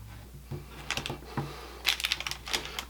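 A knife cuts through firm Almond Joy bars between the almonds, making a quiet run of crisp taps and clicks, clustered and irregular, close by with no talking.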